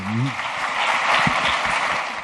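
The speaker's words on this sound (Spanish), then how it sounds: "un aplauso para Cristóbal" Audience at a university talk applauds a guest speaker, a co-founder of a company, with steady broadband clapping; a brief voice is heard at the very start.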